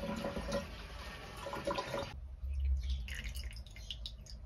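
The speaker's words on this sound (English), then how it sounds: "So what I'm going to do is I'm going to unplug the drain and check for water leak." Water drains from a bathtub with a steady rushing flow that cuts off abruptly partway through, leaving quieter gurgles and drips. Faint and close, with no talking.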